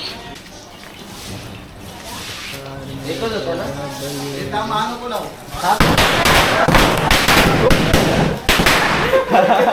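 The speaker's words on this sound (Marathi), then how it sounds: "चला फटाके कंटिन्यू कर फटाके कंटिन्यू कर" A rapid string of Diwali firecrackers bursts loudly in close, crackling succession after a stretch of voices talking and shouting nearby.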